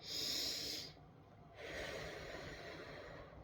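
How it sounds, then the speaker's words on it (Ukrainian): A breathing exercise for children: a sharp breath in through the nose followed by a long, steady exhale through pursed lips, a close, soft hissing airflow with a short pause between. "вдихни через носик, а видихни через рот, губки при цьому трубочкою, щоки не роздуваємо"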